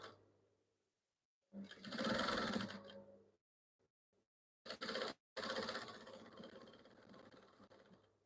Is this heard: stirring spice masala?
no